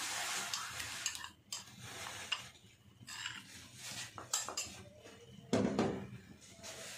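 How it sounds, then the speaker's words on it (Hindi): A metal spoon keeps stirring milk in a pot for vermicelli kheer, making close, repeated scraping and clinking sounds against the pot in an uneven rhythm, with one louder clatter near the end. "और इसमें चम्मच मुसलसल चलता रहना चाहिए"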